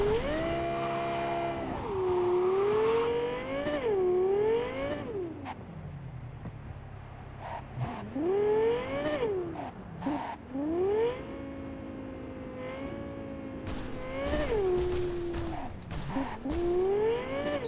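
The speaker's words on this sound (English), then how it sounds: "This car sound is so annoying." A synthetic car engine in Cyberpunk 2077 revs over and over, its pitch sweeping up and down in repeated bursts with a brief lull in between.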